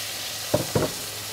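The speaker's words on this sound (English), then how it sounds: "Then in goes a cup and a half of beef broth" Beef broth hitting a hot pot for a beef bourguignon, two short sizzling bursts in quick succession over a steady background hiss, with no talking.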